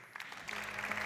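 Applause breaks out from the audience at an award ceremony for tech-for-the-future winners, a brief burst of clapping that swells quickly and holds steady.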